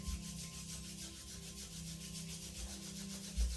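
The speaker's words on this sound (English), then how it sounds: "Rub your palms, generate a nice heat." Two palms rub briskly together to build warmth, a continuous close, dry, brushing friction with steady rhythm and a small bump near the end, alone without talk.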